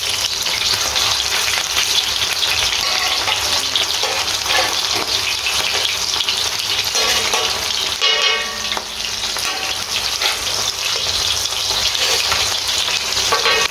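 Peshawari chapli kababs fry in a pan of hot oil, giving a steady, loud, dense sizzle and crackle that runs on without pause, briefly dipping midway as the kababs are moved.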